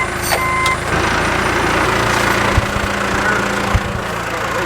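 A backhoe's heavy diesel engine rumbles steadily with a few high reversing beeps early on, plus some clunks and knocks, close by.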